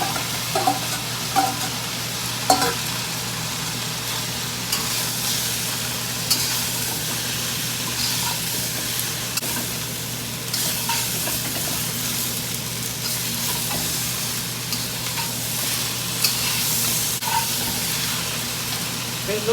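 Noodles with meat and mushroom are stir-fried in a wok for Shanghainese stir-fry noodles, with a steady close sizzle, scraping stirs and occasional clanks of the utensil against the pan.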